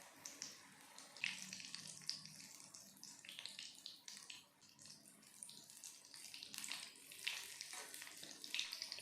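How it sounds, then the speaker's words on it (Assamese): Banana pitha batter frying in oil on a medium gas flame, a faint, steady sizzle with soft, watery crackling bursts that rise and fall near the pan. "মিডিয়াম ফ্লেমতে পিঠাখিনি ভাজি ল'ম"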